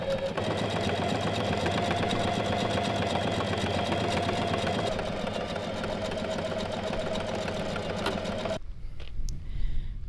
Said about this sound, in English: Finish the seam now using your serger or a zigzag stitch